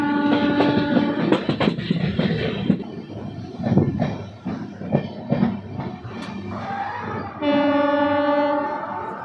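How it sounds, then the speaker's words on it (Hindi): A train pulls into Bhabua Road railway station on an Indian line, with loud rumbling wheels and clatter on the track, and sustained horn blasts at the start and again near the end. "72 किलोमीटर जर्नी करने के बाद हमारी ट्रेन पहुंच चुकी है भभुआ रोड रेलवे स्टेशन"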